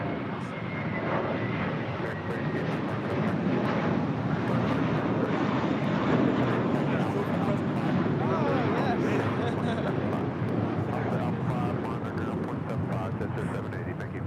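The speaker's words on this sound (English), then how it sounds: "This is American 32 departing to JFK on an A321" An American Airlines Airbus A321 departs LAX for JFK with a loud, sustained jet engine roar that holds steady throughout, while people talk faintly nearby.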